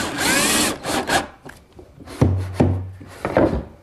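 A power drill boring a pilot hole in wood for a stop screw on a miter saw workstation, with a loud close whirring burst at the start and shorter bursts of drilling and rubbing that follow.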